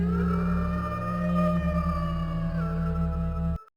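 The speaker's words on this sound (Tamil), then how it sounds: "ஓநாய் சத்தமாக குரல் ஒலிக்குது." A cartoon wolf howls in a Tamil children's animation: one long, sustained tonal wail with a rich harmonic ring and a slight pitch drift, held for over three seconds before cutting off abruptly.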